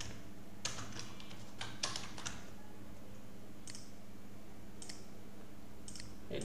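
Keys clicking on a computer keyboard in a few quiet, sparse taps and short clusters, with long gaps of faint room hum between them.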